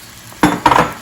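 Chopped onion hits a hot pot of butter for jambalaya, two quick bursts of sizzle and clatter with the second one longer, close and loud, with no voices.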